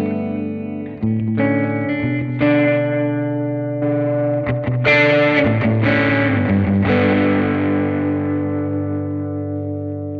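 Electric guitar through a Line 6 HX Stomp playing sustained chords and single notes with a distorted drive tone, washed in reverb and echoing delay, loud and unaccompanied.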